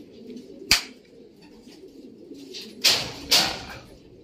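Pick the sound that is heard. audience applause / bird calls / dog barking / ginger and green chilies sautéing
bird calls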